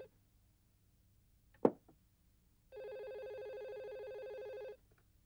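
A telephone rings with a single continuous electronic trill lasting about two seconds, preceded by a sharp knock-like thud in an otherwise quiet room.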